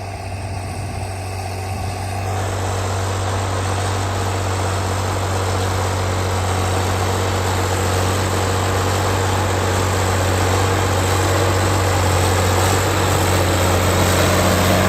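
A small tractor engine driving a 3-metre power harrow drones steadily at close range with a low, even hum and mechanical rattle, holding constant throughout with no talking.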